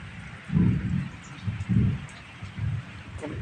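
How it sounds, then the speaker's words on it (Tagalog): Deep rumbling thunder rolls in two or three low swells over a steady hiss of rain. "Kulog pa."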